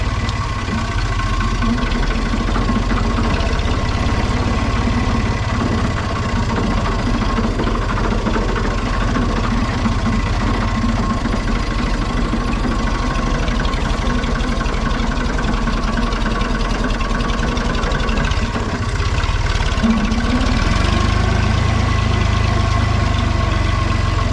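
A Universal 453 tractor engine idles steadily up close, a loud, continuous low rumble with a constant hum that stays even for the whole stretch.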